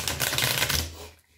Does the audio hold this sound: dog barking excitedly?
no